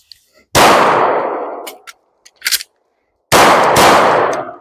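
Two sharp, loud handgun shots ring out at a shooting range during a reload drill, each decaying over about a second, with small metallic clicks and clatter from the reload between them.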